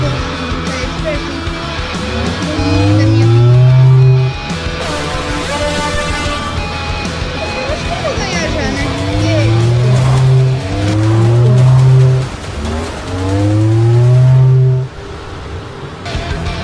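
Drag race cars in the Roblox Hot Wheels video game rev and accelerate in repeated rising engine sweeps, with tire squeals and droning low notes. The run is loud and continuous, with a faint yell in the mix.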